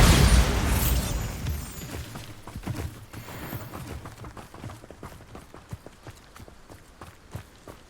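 A Bombarda spell detonates in Hogwarts Legacy with a loud, broad blast up front that decays over a couple of seconds, followed by scattered debris thuds and rhythmic footstep-like impacts.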